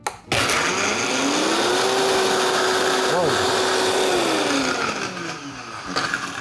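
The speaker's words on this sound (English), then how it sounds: "we're going to measure exactly how much time each of these blenders takes to completely blend 6 cups of ice" A Vitamix E320 blender crushes six cups of ice at maximum speed, giving a loud, close, steady motor whine. The pitch rises as it spins up and holds, with rattling grind underneath, and then eases off near the end.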